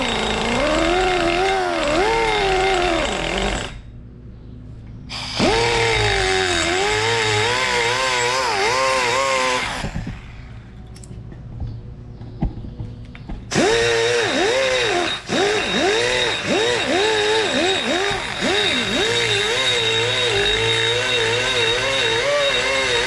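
Carbide burr on a power grinder cutting a light chamfer along a rusty cast iron edge, a loud rising and falling whine in bursts with two short pauses, harsh grinding close up.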